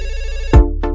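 Within a dancehall track, a bright electronic phone ringtone repeats in a steady pulsing pattern, followed by a loud low thump and short sharp hits, all mixed upfront in the music.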